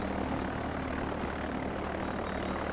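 Propeller aircraft engine droning steadily as a plane takes off in the video game Far Cry 4, a continuous loud hum with a low tonal drone throughout, no talking.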